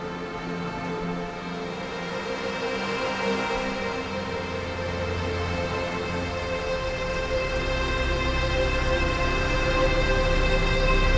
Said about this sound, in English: I have these gentle rains and violins